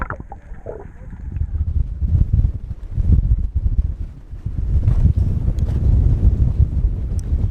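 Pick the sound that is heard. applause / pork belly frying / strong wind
strong wind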